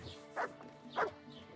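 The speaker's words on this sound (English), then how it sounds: "Call off that dog!" Two separate barks from a dog in Kingdom Come: Deliverance II, mid-distance and fairly faint over a quiet background hum.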